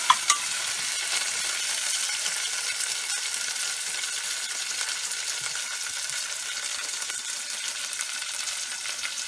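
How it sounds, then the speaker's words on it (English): Cauliflower Manchurian sauce with freshly added grated ginger and garlic is stirred in a hot pan, giving a steady, close, continuous sizzle with faint scraping, and no voices. "I'm going to be giving it a stir."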